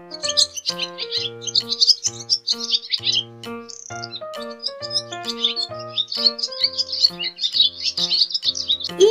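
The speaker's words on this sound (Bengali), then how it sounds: "ঘয়ে ঘুঘু পাখি ডাকছে গাছে।" A dove calls from a tree in a children's rhyme, heard as repeated high bird chirps and trills layered over steady, bright musical tones throughout.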